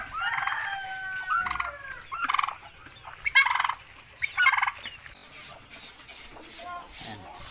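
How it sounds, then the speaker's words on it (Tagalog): A turkey on a mountain farm gobbles in several loud bursts close by, with other fowl calling in the background. "pabo yan"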